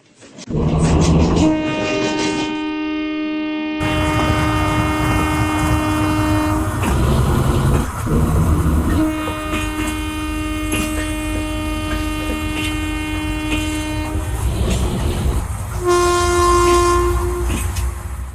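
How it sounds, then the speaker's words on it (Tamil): Indian train horn sounds in loud sustained blasts over rolling rail noise, with long tones separated by pauses and a shorter blast near the end. "ரெண்டு ஷார்ட் ஹார்ன்ஸ் அண்ட் ஒரு லாங் ஹார்ன்"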